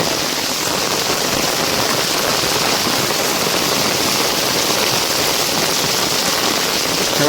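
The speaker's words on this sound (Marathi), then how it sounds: "पाऊस खूप आहे गावी" Heavy monsoon rain pours down in a Konkan village, a loud, dense, unbroken hiss across the whole stretch with no talk.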